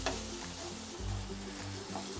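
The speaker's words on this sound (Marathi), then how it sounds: "आता हे चांगलं जरा थोडंसं टमाटर गळस्तवर चांगलं हलवून घ्यायचं" Tomatoes fry in a pan for egg pulao and are stirred, with a steady close sizzle and soft scraping strokes of the spoon, with no voice.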